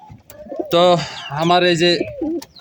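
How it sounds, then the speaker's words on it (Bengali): A pair of Pakistani pigeons coos in a sustained, throaty warble close by, while someone talks briefly before and after. "এখানে এক জোড়া কবুতর আছে।"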